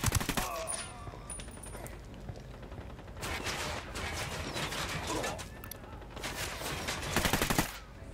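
Enemy gunfire in Ghost Recon Wildlands crackles in several loud, rapid bursts, separated by quieter gaps with faint background sounds.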